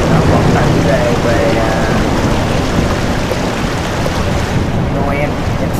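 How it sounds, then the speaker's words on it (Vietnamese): Heavy rain pours in the truck-driving game Truck Simulator Ultimate, a dense, steady wash of downpour that stays loud and unbroken throughout, with a low rumble beneath and a voice speaking over it. "Hôm nay trời mưa tầm tã rồi."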